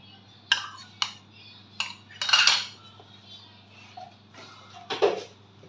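A spoon clinks sharply in a bowl while chicken is mixed with salt and egg: about half a dozen quiet, scattered metallic taps with pauses between them over a faint low hum, with no talking.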